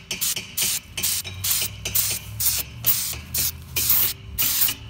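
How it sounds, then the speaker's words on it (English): Short bursts of spray paint hiss from an aerosol can onto a Mazda Miata one after another in a quick, uneven rhythm, close and fairly loud, about a dozen puffs. "Let's start spraying it on spots that are hard to get to."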